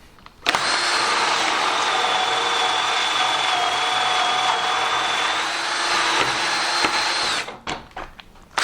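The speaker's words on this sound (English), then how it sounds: "to drill out the remaining holes" A steady, high-pitched drill whine runs for about seven seconds without a break while drilling holes in an MFT workbench top, then stops abruptly, followed by a few light clicks.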